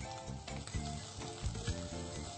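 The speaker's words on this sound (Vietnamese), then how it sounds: "Khi mà tỏi thơm rồi, vàng rồi, chúng ta sẽ tiếp tục cho tôm vào." Raw shrimp tossed into a hot pan of golden fried garlic, giving a close, steady sizzle and crackle with a few louder pops as the pieces hit the oil.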